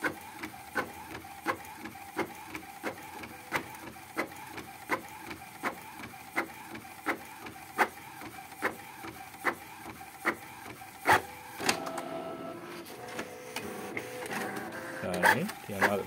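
An Epson L1300 printer feeds thick paper: a regular series of sharp mechanical clicks and ticks about every three quarters of a second, followed by a louder whirring, grinding pull as the sheet is drawn in.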